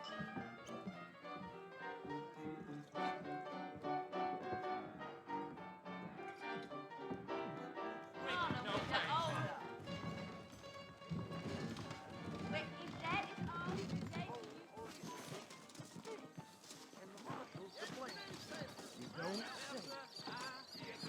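Horses in the Western video game Red Dead Redemption, with hoof clip-clop and a neigh sounding under in-game music and ambience while characters talk throughout.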